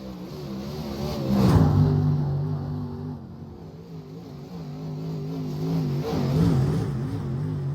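A UMP modified dirt car at Volusia in the iRacing sim revs up and eases off twice, its mid-pitched engine drone rising and falling steadily with no talk over it.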